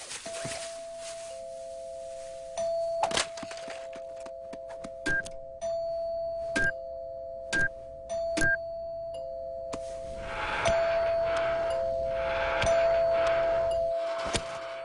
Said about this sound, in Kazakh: тағы бір маймыл қоңырауымды басып тұр